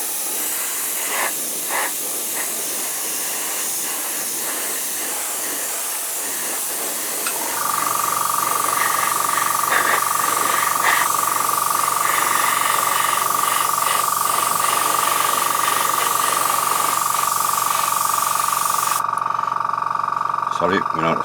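Airbrush spraying light coats of paint on a 1/35 Ryefield T-34/85 tank model, a close steady hiss joined midway by a continuous compressor drone, both running without pause until the spray cuts off near the end.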